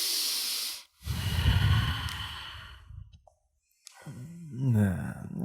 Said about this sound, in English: maybe just deepen the breath.